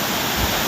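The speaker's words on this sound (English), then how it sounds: "here you have a waterfall that's just like" Waterfall in Elliðaárdalur, a steady, loud, broadband rush of falling water heard close up, with no voices.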